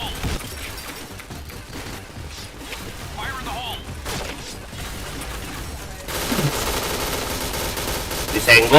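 Gunfire in the shooter video game Point Blank, a busy spell of repeated shots and game effects that grows louder toward the end, with voices talking over it.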